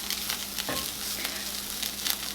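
Ground beef and flour cooking in a pan: a quiet, steady sizzle with soft scraping stirs, and a brief louder clink at the very end.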